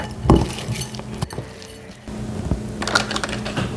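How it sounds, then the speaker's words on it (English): Ground meat being mixed with cheese and bacon in a bowl, heard as close, soft squishing and crushing with a few sharp clinks of utensil against the dish in an uneven rhythm. "Now we're just gonna mix it and roll it into balls and put it on here."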